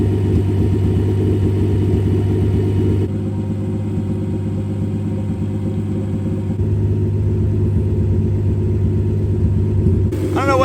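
A 1963 Plymouth Valiant slant six, fed boost through a Carter BBD carburetor, runs steadily for the whole stretch with a deep, constant rumble close by; the tone shifts slightly twice and rises briefly in a rev near the end, with no talk.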